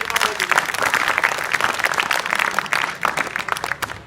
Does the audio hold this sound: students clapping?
yes